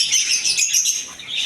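Budgerigars in a bird shop chirp continuously, a dense overlapping chatter of many small, fairly close birds.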